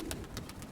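Pigeons coo softly in a quick series of brief calls, faint beneath a gusty background during strong wind.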